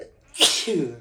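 A single sharp sneeze, close and loud, with a brief voiced tail as someone speaks right after it.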